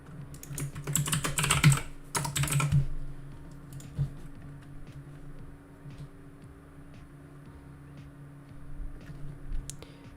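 Steady typing on a computer keyboard, with a burst of fast, dense clatter at first, then sparse, faint key taps over a low background hum.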